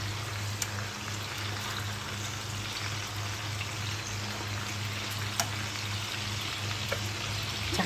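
Kabab frying briefly in a pan for a kabab saluna with potato, a steady soft sizzle with faint crackles and occasional pops, close and continuous with no talking.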